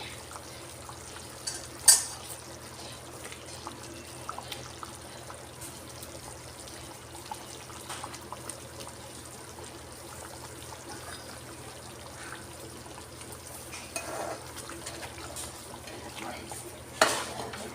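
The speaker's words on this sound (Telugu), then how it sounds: "ఇప్పుడు కూర ఉడుకుతుంది." Eggplant curry simmering in a pan with oil, a low steady bubbling hiss under occasional soft stirring scrapes, with a couple of sharper clinks near the start and end.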